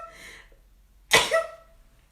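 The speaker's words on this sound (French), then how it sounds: "Je vais éternuer." A single sharp sneeze bursts out after a short breathy intake, close and fairly loud, followed by quiet.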